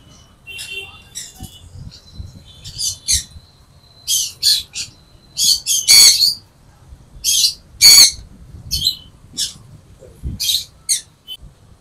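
Birds in a bird shop stocking everything from common to exotic species chirp and squawk in sharp, repeated bursts, some loud and piercing, over a faint low hum.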